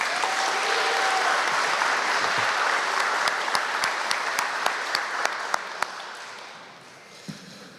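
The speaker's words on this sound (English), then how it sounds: "please give him a round of applause, Noah McQuain." Audience applause after a student is introduced at a middle school spring band concert. Dense clapping stays steady, then thins into a few scattered individual claps and dies away near the end.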